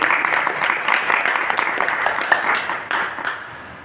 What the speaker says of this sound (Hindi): एक बार माता जी के लिए तालियां बजाएं।